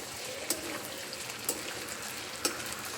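Khichdi frying in a pan as it is mixed, a steady soft sizzle with a few brief utensil clicks and scrapes at intervals, no voices.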